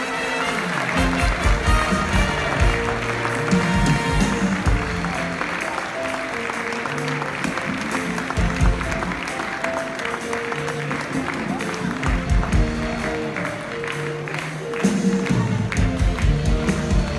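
An audience at a town's New Year greetings ceremony applauds officials walking onto the stage, a dense, sustained crowd applause with music playing underneath that swells again near the end.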